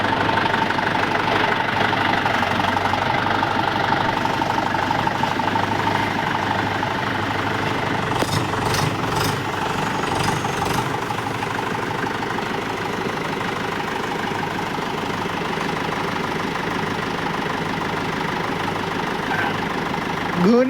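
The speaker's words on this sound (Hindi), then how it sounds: "देखो गाइस ट्रैक्टर।" A tractor in Jharkhand idles nearby with a steady, throbbing engine rumble throughout, with brief clanking around the middle and talk in the background.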